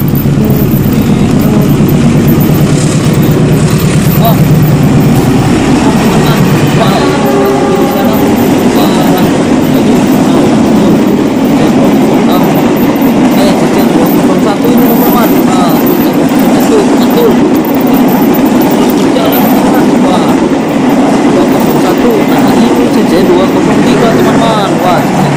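A remote control model of a CC201 locomotive hauling cargo wagons runs along its track with a loud, steady rumbling whir, while a person talks excitedly throughout.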